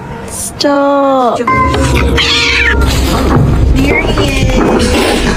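A cat gives a few meows and drawn-out complaining cries, close and loud. Excited talk and laughter run alongside the cries.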